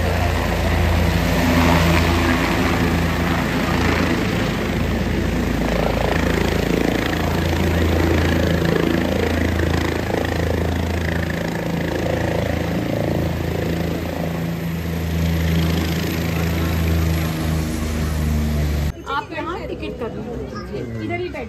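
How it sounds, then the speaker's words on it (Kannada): A helicopter at Sindhanur runs up and departs, a loud, continuous rotor and engine drone beneath a chattering crowd, cutting off sharply near the end. "ಹೆಲಿಕಾಪ್ಟರ್ ಇಲ್ಲ ಹೊಂಟೈತಿ ನೋಡ್ರಿ"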